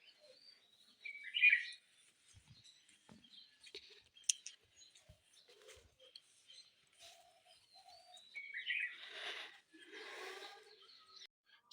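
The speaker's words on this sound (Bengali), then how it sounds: "আর পাখির কিচিরমিচির শুনতে পারবেন।" Birds chirp in the early morning outside a house gate in the country, a few bright calls in short bursts with quiet gaps, moderately close and alone, no voices.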